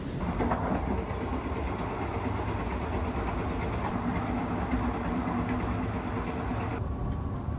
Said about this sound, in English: taking the overnight sleeper train to Chiang Mai, the largest city in northern Thailand